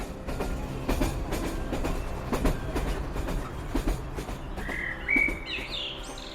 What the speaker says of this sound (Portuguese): Lembra-se de estar à janela do comboio que a leva de Lisboa à estação de Mortágua